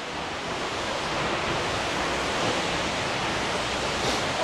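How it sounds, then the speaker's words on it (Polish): A waterfall heard from behind the falling water gives a dense, continuous broadband roar that stays loud and steady throughout with no other sounds or voices. "Nigdy nie zdarzyło mi się być za wodospadem."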